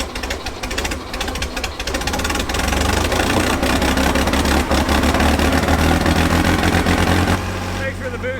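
A heavy hydraulic machine's diesel engine runs loud and close, settling into a steady rumbling idle with a low knocking pulse throughout.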